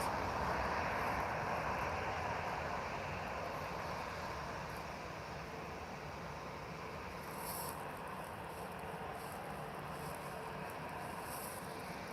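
An airplane taxies quickly at Lisbon airport, heard from a distance as a steady, broad engine roar and hiss that holds level throughout with no talking.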